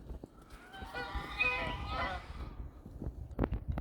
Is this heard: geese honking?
yes